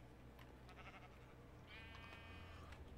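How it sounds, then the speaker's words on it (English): A sheep bleats in the Diversity 2 Minecraft map, a drawn-out nasal call over steady in-game background hum, fairly faint and alone without talk. "Did that create a sheep up there?"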